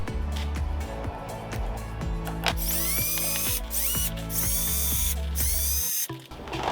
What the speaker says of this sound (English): I'm going to just drill it in to the outer holes